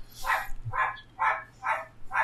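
A dog barks five times in a steady rhythm, fairly close and clear against a quiet background with a low hum.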